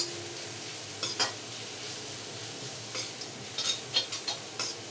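Ragi flour and sweet potato puttu mixture being stir-fried over low heat: faint continuous sizzle with a few sharp scrapes and clinks of a spoon against the pan.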